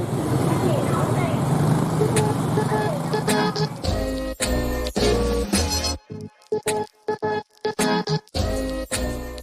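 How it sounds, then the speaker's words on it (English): Busy rush-hour road traffic in Ho Chi Minh City, a loud, dense wash of motorbike and car engines with a horn toot, giving way in the second half to choppy, broken bursts of nearby vehicle noise. "The traffic is crazy, but I love it."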